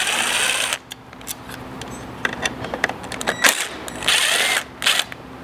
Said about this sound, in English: we're going to remove this sensor from the factory bumper using a T20 Torx socket